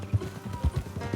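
Horse hooves clip-clopping in Red Dead Redemption 2, a steady run of near hoofbeats on an off-road path with no talking.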